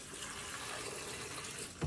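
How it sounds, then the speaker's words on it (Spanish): Water runs steadily as it is added to enchilada sauce ingredients before blending, a continuous faucet-like flow heard alone with a brief louder splash at the end. "Le vamos a poner agua."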